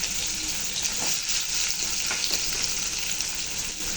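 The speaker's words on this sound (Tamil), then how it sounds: "இப்போ அதில் வெங்காயத்தை போட்டுக்கிறேன்" Onions frying in oil for a Tamil-style prawn thokku, a steady close sizzle and crackle running unbroken from start to finish, with no voices over it.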